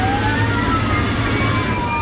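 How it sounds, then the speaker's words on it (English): A siren wails steadily with a slowly sliding pitch over a constant low rumble of engines, continuous and fairly loud throughout. "Sirens provide the score to a monster storm."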